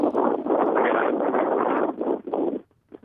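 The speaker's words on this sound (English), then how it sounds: "I'm getting quite a bit of wind in the background there" Strong wind buffets a microphone outdoors in Washington, D.C., a loud, rumbling muffled roar in gusts that drops out briefly near the end.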